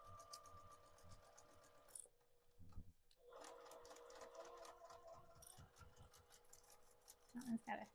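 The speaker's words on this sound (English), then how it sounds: "Did you hear my sewing machine?" A sewing machine stitches fabric for foundation paper piecing on a quilt block. It runs close and clear in steady bursts, with a short pause near the start and some mechanical clatter at the end.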